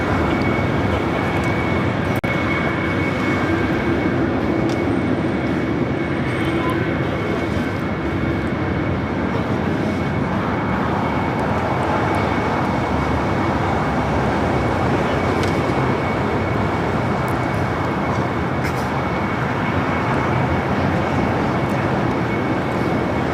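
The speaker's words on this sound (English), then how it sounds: "777 freighter lighting up." A Boeing 777 freighter of MSC Air Cargo at LAX spools up its engines, giving a loud, steady jet roar with a faint high whine that stays constant throughout, with no voices.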